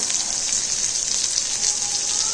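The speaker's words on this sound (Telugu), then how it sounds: "స్టవ్ సిమ్లోనే పెట్టుకొని వేయించుకుంటున్నాను" Papaya pieces fry on a stove set to a low flame, giving a steady, soft, continuous sizzle close by with no voices.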